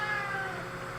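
A cat meows in a drawn-out, wavering tone, fairly quiet and indoors, lasting about a second with no talking over it.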